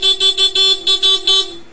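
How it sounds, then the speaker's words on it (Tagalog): A Nissan Navara's horn with Bosch Europa horns honks six times in a quick, even series of loud, bright beeps, up close with nothing else around it. "May busina pala ito, nakakalimutan ko."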